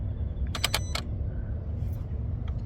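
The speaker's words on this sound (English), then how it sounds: "This sounds like the throttle body" Throttle body in a parked, switched-off 2023 Kia Sorento cycling on its own, giving a brief burst of four quick mechanical clicks and whirs close to the microphone over a steady low hum.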